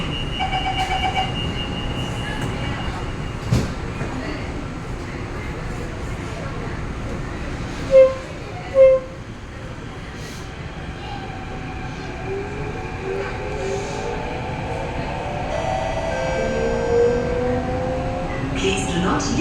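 Metro train interior on the move, a steady low rumble and rail noise throughout with a pair of short chimes partway through and rising whine as the train pulls away; automated announcements play over it.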